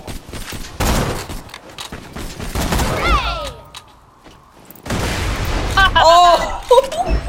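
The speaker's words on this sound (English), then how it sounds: "there's somebody on the second story that's shooting at us" Gunfire in the Borderlands 2 video game, an enemy shooting from a second story: bursts of shots and blasts come in two loud clusters separated by a quieter gap, mixed with whooshing game effects and a voice talking over it.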